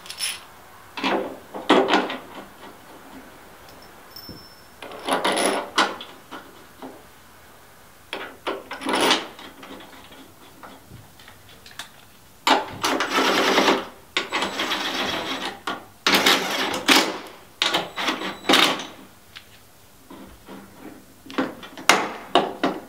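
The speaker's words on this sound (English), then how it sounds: "now we're just going to push the shaft back a little bit with our press tool" A press tool forces a snowmobile drive shaft back on a Yeti SnowMX with a Maxtrak, producing repeated close scraping, grinding and creaking bursts in irregular strokes with short pauses between.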